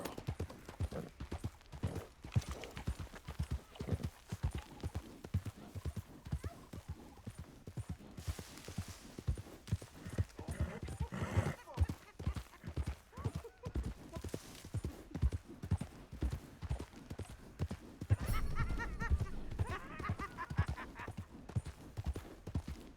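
Horse hooves clip-clop steadily in the Western video game Red Dead Redemption 2, a long run of rhythmic hoofbeats with occasional brief snorts and other game sounds mixed in.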